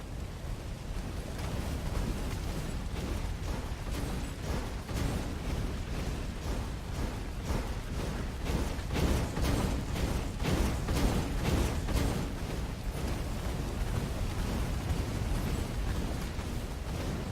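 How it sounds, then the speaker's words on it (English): Cannon traps fire in the video game Stories: The Path of Destinies, a dense, continuous barrage of booming, rumbling blasts with rapid repeated bursts throughout. "Bernardo hated cannon traps."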